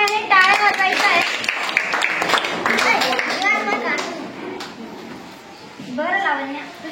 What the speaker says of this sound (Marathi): लावण्यासाठी सगळ्यांनी टाळ्या वाजवायच्या आहेत.